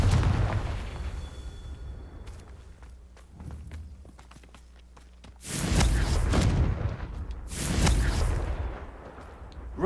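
Spell blasts from a Harry Potter video game, the Confringo fire curse erupting as two loud, broad booming explosions in the second half, after quieter footsteps and small impacts.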